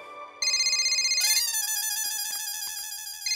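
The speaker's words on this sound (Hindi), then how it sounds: "जेठा जी का फोन" An electronic phone ringtone plays a loud, bright looping melody that starts suddenly and carries on steadily. No one speaks.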